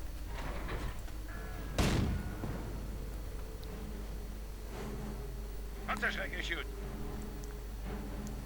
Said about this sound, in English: The M8 firing away at medics